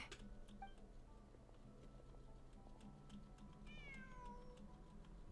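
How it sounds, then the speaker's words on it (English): A cat meows in Genshin Impact: one faint, short meow stands over a steady low game ambience, with light ticking sounds heard earlier. "Oh, they think it's a cat."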